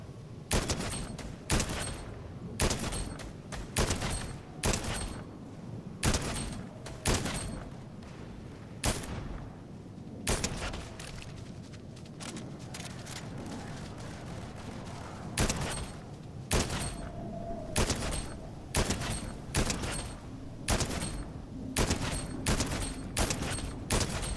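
Gunfire in the video game Fortnite: sharp, loud shots fired in repeated bursts and single cracks, spaced irregularly throughout, with brief pauses between volleys.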